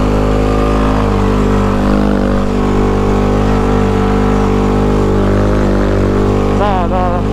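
Tuned scooter running at full throttle up a hill, a loud, sustained, high-revving engine drone with strong steady harmonics, a brief warbling pitch wobble near the end.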